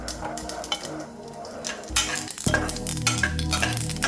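Tempering spices being stirred in a hot pan, with a steady sizzle and repeated scraping strokes that grow louder and fuller partway through as potato pieces go in, close up and with no speech.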